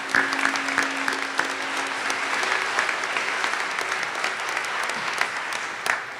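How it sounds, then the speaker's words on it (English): An audience at a university academic convocation claps steadily and fairly loudly, a dense patter of many hands lasting several seconds with no gaps. "We should clap for Emily."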